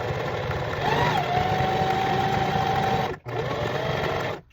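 Sewing machine stitching steadily around a curved seam on a small fabric cocoon angel gown, a continuous motor hum with a faint steady whine, pausing briefly twice.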